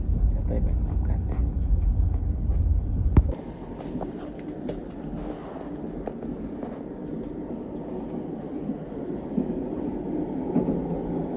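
Steady low rumble inside a Thai long-distance VIP train car, heavy at first and then dropping to a softer running hum, with people talking over it throughout.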